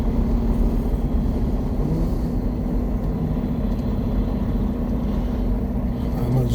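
A diesel truck loops slowly around a truck stop lot, its engine a steady low rumble heard from inside the cab, loud and constant with wind and road noise, with no talking.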